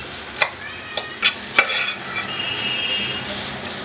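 An onion frying in a pan, a few distinct scrapes of a spoon against the metal followed by a soft steady sizzle, close and moderately loud, with no talking.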